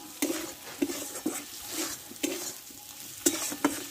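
Potatoes being stir-fried with spices in a pan while cooking chana dal, with steady scraping strokes of a spatula repeating every half second or so over a continuous sizzle, close and moderately loud.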